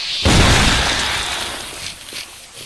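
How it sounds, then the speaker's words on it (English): A single loud, sharp gunshot goes off in the Resident Evil video game, a sudden blast with a crackling burst that decays into a lingering noisy tail. "Dude, that gunshot is very loud"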